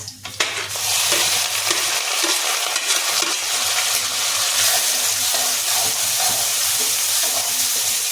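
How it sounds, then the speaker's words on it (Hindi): Chopped onion and garam masala hitting hot oil in a pan, a loud burst followed by a continuous dense sizzle with occasional stirring scrapes, with no talking. "ये तेल हो गया है, इसमें ये सब गरम मसाला डाल देंगे। इसी में डाल देंगे प्याज"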